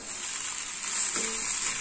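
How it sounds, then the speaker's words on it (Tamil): Goat brain and egg stir-fry sizzles steadily in a hot pan, a close, even crackling hiss with a faint scrape of stirring partway through. "நல்லா எல்லாத்தையும் ஒன்றா மிக்ஸ் பண்ணி ஃப்ரை பண்ணுங்க"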